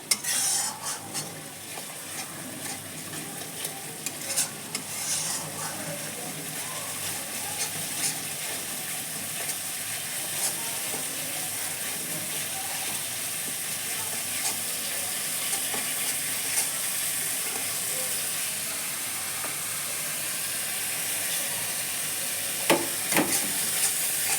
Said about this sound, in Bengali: মশলাটা এখন ভালোভাবে ভেজে নিব। এইভাবে ভাজতে হবে ঘুরিয়ে ঘুরিয়ে।